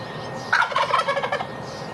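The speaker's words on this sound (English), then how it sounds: "while turkeys gobble" A turkey gobbling, one quick rattling burst of warbling calls, clear and alone against a quiet background.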